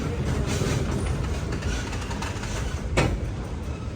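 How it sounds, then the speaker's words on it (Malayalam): Maveli Express sleeper train pulling out of Kozhikode railway station, a steady broadband rumble and rolling rail noise with a brief louder burst near the end, continuous and close. "ഇതാ 9:40 കോഴിക്കോട് റെയിൽവേ സ്റ്റേഷനിൽ ഇതാ ട്രെയിൻ എടുത്തിരിക്കുകയാണ്"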